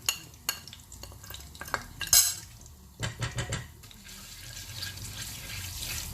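A spoon clinks and clatters against a metal pan while asafoetida goes in for a courgette and soya chunk dish: a few sharp, separate taps, then a brief cluster of knocks, over faint kitchen background.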